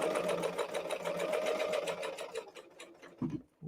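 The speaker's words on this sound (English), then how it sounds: "I'm going to sew a little bit and then go off to the right to cut off the excess" A serger runs steadily, stitching along fabric and trimming away the excess edge, a dense fast whir for about two and a half seconds that then slows into a few separate stitches before stopping.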